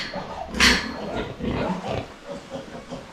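Pigs on a farm give off grunts and snorting oinks, including one sharp squeal early on, with a mixed rustling farmyard bustle around them and only scattered voices.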